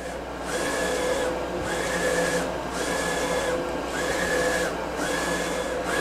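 A heat transfer vinyl printer runs steadily as it prints on gold metallic printable vinyl, with its carriage whirring back and forth in regular passes and a steady mechanical hum, close by and with no talking.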